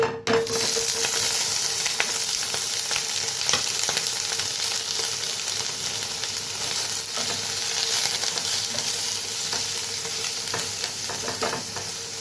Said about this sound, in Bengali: তেলটা গরম হয়ে গেছে, পনিরগুলো ছেড়ে দিই